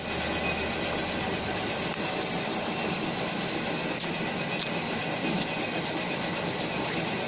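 A lathe cuts valve recesses into a Kawahara racing piston, producing a steady, loud, unbroken machining whir and hiss with a thin high whine, plus a couple of brief sharp ticks.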